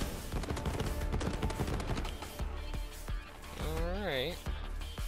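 Projectiles in Borderlands 3 bounce off the ground and burst like fireworks, rapid sharp pops and crackles in quick bursts, with a voice talking over them and a whistling swoop near the end.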